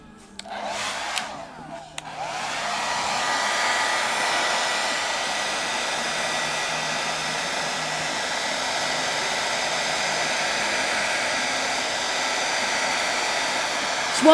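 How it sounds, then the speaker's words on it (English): A hair dryer blowing hot air to warm fiberglass on a CRG Blue Demon kart switches on after a brief start and then holds a loud, steady whooshing hum close by, alone. "The hair dryer was more than hot enough."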